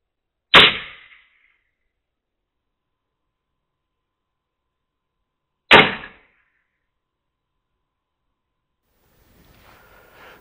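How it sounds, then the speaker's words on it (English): Two sharp, loud bangs about five seconds apart strike the roof of a canal boat on the Oxford Canal, like a brick or stone hitting it, each dying quickly into silence, followed by faint rustling near the end. "It sounded like someone had lobbed a brick or a stone onto the roof of my boat"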